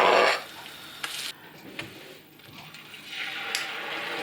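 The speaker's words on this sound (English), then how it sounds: "add the ginger garlic paste and cook that for a few minutes" Ginger garlic paste and spices frying in a pan, with a loud sizzle burst at the start easing into steady crackling, a few utensil taps and scrapes, then the hiss swelling again, up close.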